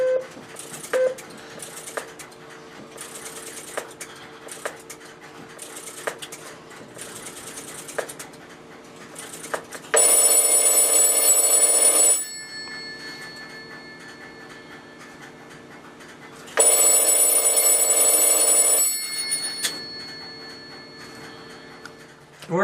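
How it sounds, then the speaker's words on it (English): Telephone bell on a heritage telephone exchange, ringing on 50 hertz current in two loud, long bursts separated by a quiet gap, over a faint ticking, humming room background. "I will place one more call and I will select the 50 hertz ringing"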